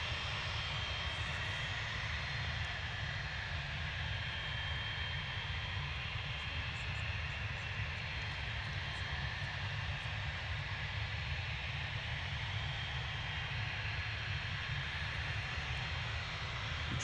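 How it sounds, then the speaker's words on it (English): A 17-year-old Cessna Citation XLS Plus business jet departs Manchester Airport for Orléans, a faint, distant, steady engine rumble and hiss carrying evenly throughout, with no talk. "It's a Cessna Citation XLS Plus, 17 years old"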